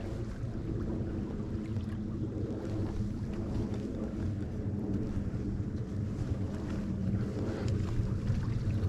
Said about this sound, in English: This is the brook we're following.